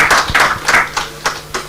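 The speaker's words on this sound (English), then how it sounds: "A round of applause for you." A few hands clap at a panel talk on innovation and creativity, sharp separate claps in a loose rhythm, close and fairly loud, over a faint low hum.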